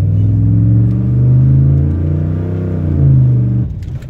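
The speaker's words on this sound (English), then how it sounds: "see, it just stalled" A car engine runs with a steady, loud rumble, swelling slightly, then abruptly cuts out and stalls, leaving near silence.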